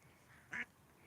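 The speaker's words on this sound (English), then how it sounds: "Mama Duck's trying to teach the little ducklings her call and to come to her." A mother duck calls to her young ducklings, one short, faint quack in otherwise quiet surroundings.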